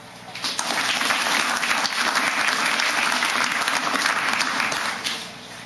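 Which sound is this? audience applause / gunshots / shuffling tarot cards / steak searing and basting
audience applause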